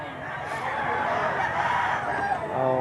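A gamefowl rooster crows loudly and close by in an early-morning breeding yard at 6:30, with a long drawn-out call and faint flock clucking behind it.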